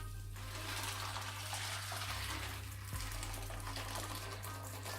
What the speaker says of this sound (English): I'm just going to cover these well with water because I don't want them to dry out.